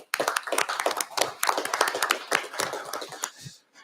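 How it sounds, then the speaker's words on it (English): Committee hearing attendees clapping for board members, a small group's distinct, uneven hand claps, close and crisp, trailing off at the end. "So let's give them a round of applause."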